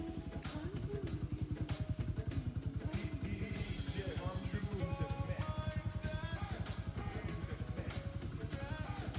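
A motorcycle engine idles steadily after a carburettor tune-up and cleaned spark plug, a close, even, rapid putter with a few higher mechanical tones over it.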